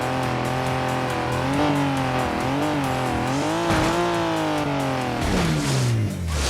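Race car engine in a racing video game, blasting down the Nürburgring straight: a loud, steady engine tone with harmonics rising and falling through gear shifts, tire squeal and a final downshift, close and without any voices.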